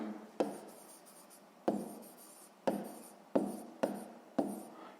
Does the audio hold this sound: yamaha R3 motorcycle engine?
no